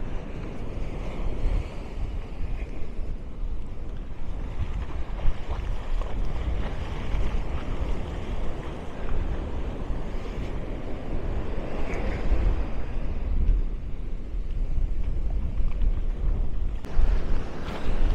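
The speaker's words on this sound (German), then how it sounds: "das muss ich euch noch mal zeigen, was hier gerade los ist mit den Wellen" Ocean surf at the beach in Maspalomas, Gran Canaria rolls and crashes continuously, a loud, dense roar of breaking waves mixed with wind buffeting the microphone, with no voices.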